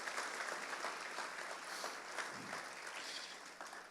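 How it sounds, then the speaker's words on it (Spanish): Church congregation at a Spanish-language service claps together in a sustained round of applause, dense and continuous but fairly quiet and distant, with no voices standing out. "Dale un fuerte aplauso a Cristo."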